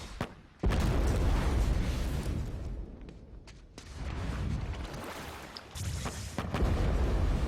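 A fire beam blast in the Avatar: The Last Airbender cartoon, a sudden loud roaring burst that erupts after a brief quiet and rumbles on heavily, swelling again in waves with no talk over it.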